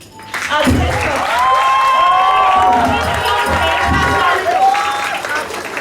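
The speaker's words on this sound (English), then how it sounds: "Big round of applause for all the children" A crowd claps and cheers loudly and steadily at a school assembly, with children shouting and whooping over the applause.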